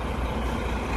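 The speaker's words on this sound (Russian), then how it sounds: "Стоим в пробке." Heavy traffic sits backed up at a border crossing, with truck and bus engines rumbling steadily nearby in a dense, continuous low drone and no voices.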